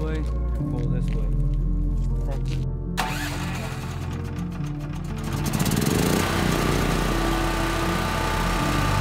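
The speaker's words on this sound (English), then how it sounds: "I'll fire up the generator here in a second." A portable generator engine cranks and catches, then settles into a steady running drone with a mechanical hum, while people talk nearby.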